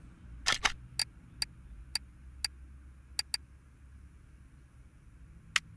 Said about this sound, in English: These bolts make a completely different sound than on Simulator 15